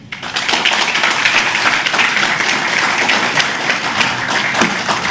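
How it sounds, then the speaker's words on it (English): A seated audience at a Google and Andhra Pradesh government agreement event breaks into loud, dense applause, many hands clapping steadily for several seconds. "Request all of you to give him a warm round of applause for this momentous announcement."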